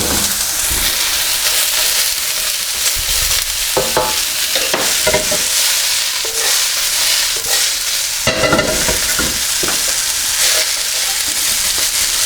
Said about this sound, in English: first thing we're going to do is to fry the vegetable.